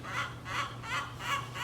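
Free-range chickens nearby on a farm lawn, a rhythmic run of four or five soft clucking calls at a steady pace over a low background hum.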